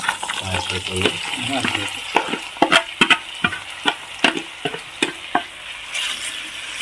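Chopped raw plantain stirred in a pan of sautéed ingredients, with a soft sizzle beneath a run of sharp, irregular scraping knocks from a spoon against the pan, close and fairly loud.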